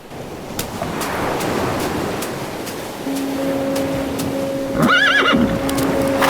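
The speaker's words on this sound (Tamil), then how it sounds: "நீங்க சூப்பரா குதிரை ஓட்டுறீங்க." A horse being ridden in an action film gives a clear, rising whinny near the end over a steady rush of wind and surf, with faint hoofbeats underneath.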